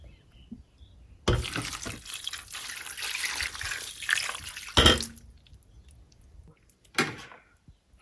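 Water poured from a container into a pot of seasoned meat for Ogbolor soup, a steady splashing pour of a few seconds, close, followed by a short clatter and a brief second splash, with no talking.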